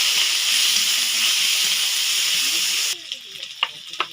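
Onions dropped into hot oil in a pan for a spicy crispy fish fry, a loud steady sizzle and hiss that cuts off abruptly, followed by quieter stirring clicks and scraping.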